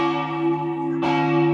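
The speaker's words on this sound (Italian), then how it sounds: "E mentre continua il suono delle campane" Church bells of the church at Ciseriis, Tarcento, ring loud and close, with steady sustained tones and a fresh strike partway through.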